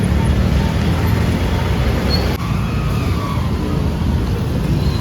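Dense street traffic flows steadily past the entrance to Kathmandu's Durbar Square, a continuous loud wash of engines and road rumble with no pauses, a faint voice somewhere in the mix.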